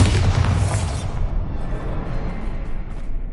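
A Bombarda blasting spell detonates in Hogwarts Legacy with one loud, deep boom, then a low rumbling decay that fades over a few seconds.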